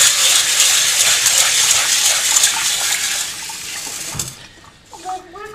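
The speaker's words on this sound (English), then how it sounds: "So I'm actually gonna run some water over this first." Tap water gushes steadily over aquarium gravel being rinsed in a sink, loud and close, then cuts off near the end, followed by faint splashes and a brief voice.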